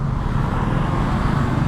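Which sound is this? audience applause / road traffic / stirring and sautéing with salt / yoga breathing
road traffic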